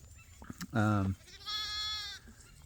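Sheep bleat twice nearby, first a loud low bleat and then a higher, wavering one. Faint rustling sits under the calls.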